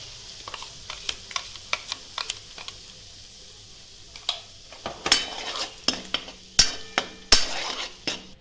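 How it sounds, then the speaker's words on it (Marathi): Garlic paste and ground masala sautéing in oil for a Nagari-style chicken rassa, with a soft sizzle under repeated sharp spoon scrapes and clinks against the pan, growing busier and louder toward the end. "आपल्याला तेलामध्ये ना आमच्या लसूणची पेस्ट आहे छान अशी परतून घ्यायची"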